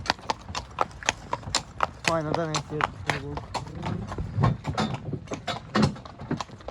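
A mare's hooves clip-clop in a steady close rhythm on a hard surface while someone talks over them.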